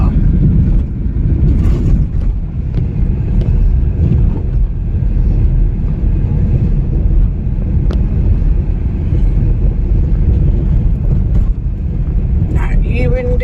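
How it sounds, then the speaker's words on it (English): A car driving along a dirt road in The Gambia near the end of the rainy season, with a loud, steady low rumble of engine and tyres and wind buffeting, under someone talking. "Just taking y'all along for a little dirt ride along."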